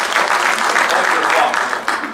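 Audience clapping at a school end-of-year faculty awards ceremony, a dense steady wash of applause from many hands in a room, with voices mixed in beneath it.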